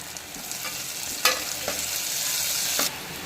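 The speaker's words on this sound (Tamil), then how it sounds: "ஒரு கொத்து கருவேப்பிலை சேர்த்து இதை நல்லா கிளறி விட்டுக்கலாம்" Onions, green chilies and curry leaves frying in a pan and being stirred, a steady close sizzle with a few sharp scraping strokes of the spoon, no voices.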